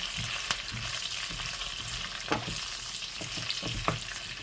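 Pork fries in its own rendered fat in a pan, giving a constant hissing sizzle with scattered sharp pops and spatters at irregular moments, close and steady, with no voices.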